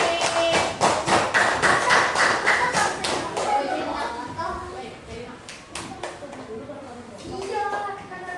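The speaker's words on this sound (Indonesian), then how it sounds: "ayo tepuk tangan untuk kelompok 1" A group of schoolchildren clap for classmates in a classroom, a burst of quick close claps that thins out, with children's voices chattering over and after it.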